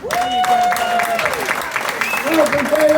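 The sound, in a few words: audience applause at a comedy show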